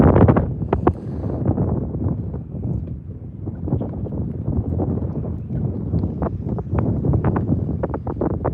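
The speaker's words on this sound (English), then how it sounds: "The wind has kind of picked up on me." Wind gusting across Lake Sinclair during a bass fishing tournament, buffeting the microphone in a steady, rough low rumble with scattered thumps and rattles for the whole stretch, with no talking.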